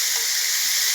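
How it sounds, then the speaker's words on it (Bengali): Potatoes fry in a pan with a continuous bright sizzle, steady and close, with a faint low clink partway through and no talking. "মা আজকে করছে আলু ভাজা"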